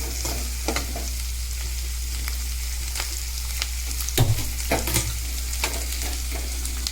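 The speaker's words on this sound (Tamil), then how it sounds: "வெங்காயம் நல்லா வறுபடணும்" Steady sizzling of onions frying in a pan, with occasional scraping and stirring clinks over a constant low hum.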